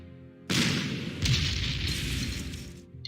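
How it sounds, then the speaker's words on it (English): Double artillery fire in the Panzer Corps strategy game: a sudden loud boom with a broad rumbling blast that sustains, followed by a second heavy impact partway through, fading gradually at the end. "Double artillery."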